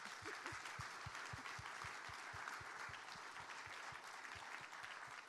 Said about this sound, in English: I want to give her at least a round of applause for all that you have done.